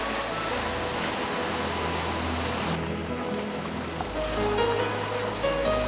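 High ocean waves on an Indian fishing coast roar steadily as a dense, continuous wash of surf, loud and unbroken throughout with no voices.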